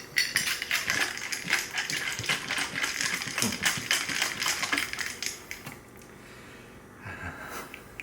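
A Brandy Alexander with heavy cream or half and half being shaken hard in a cocktail shaker, a dense, steady rattling clatter for most of the time that thins out near the end.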